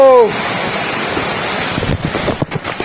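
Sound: waterfall by the roadside

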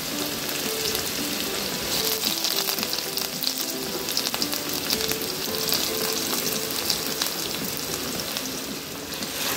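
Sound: onion sautéing in oil with mustard seeds and cumin

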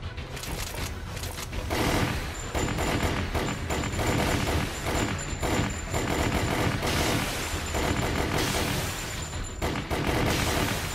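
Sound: gunfire in the video game Resident Evil: The Umbrella Chronicles

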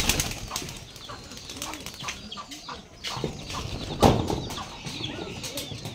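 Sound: pigeons released, flapping wings

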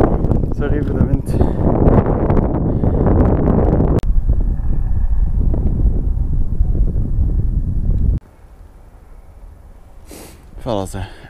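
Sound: wind blowing into the microphone outdoors

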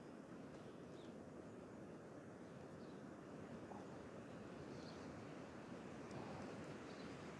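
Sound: sea surf breaking on rocks

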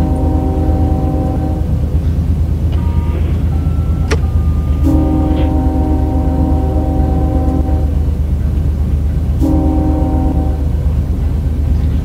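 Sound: custom train horn in the video game Run8

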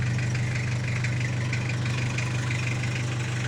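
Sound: Toyota Hilux Mighty-X pickup engine idling smoothly

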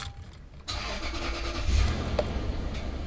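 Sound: Lexus GX470 engine starting

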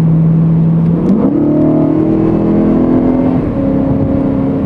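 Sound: 2011 BMW M3 engine accelerating in M mode

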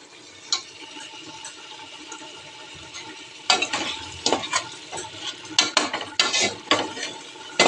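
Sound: chicken liver frying with turmeric

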